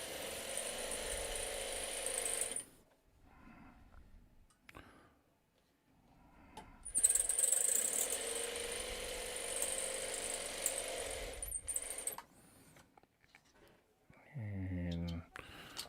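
A home sewing machine stitches fabric squares in two runs of steady mechanical whirring, each a few seconds long, separated by quieter gaps, with a short rising tonal sweep near the end.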